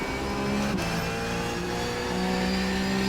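A Porsche race car in the iRacing video game holds a loud, steady engine drone at Monza, with a brief dip and shift partway through before the pitch settles again into a constant high whine.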